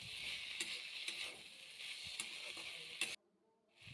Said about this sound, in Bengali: দিয়ে নাড়াচাড়া করে কিছুক্ষণ রেখে দেব